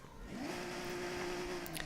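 Stock exhaust on a 2.5 litre car engine in the Forza Horizon 6 racing game, a steady rising rev that climbs and then holds a sustained engine drone, loud and close with no talk over it.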